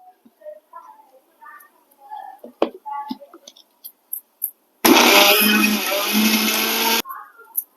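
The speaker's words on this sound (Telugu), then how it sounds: "మిక్సీ పట్టుకున్నాను ఇప్పుడు ఇది" A kitchen mixer grinder whirs loudly for about two seconds as it grinds black gram roasted in ghee. Soft, near-whispered talk and small clicks come before and after the burst.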